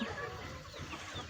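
Large chickens on a farm cluck softly in a short burst, fairly close, with faint background noise.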